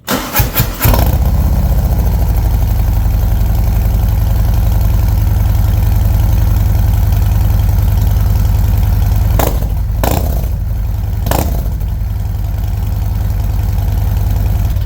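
A 2024 Harley-Davidson Road Glide with stock pipes converted to a 2-into-1 exhaust starts with a few cranking pulses, then settles into a loud, close, steady loping idle with a couple of brief throttle blips.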